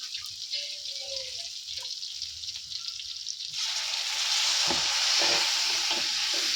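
A pan of masala fries with a low, steady crackle, then water is poured in and the pan bursts into a loud, sustained hiss and bubbling sizzle.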